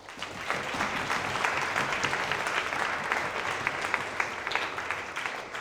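A student audience at a Cardiff Students' Union political question-time event applauds in a dense, steady burst that holds at an even level throughout.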